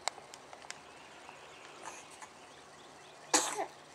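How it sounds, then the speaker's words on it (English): A young child gives a short sneeze near the end, one abrupt burst after a few faint clicks and quiet room noise, with no talk during it. "Oh, goodness. A sneeze."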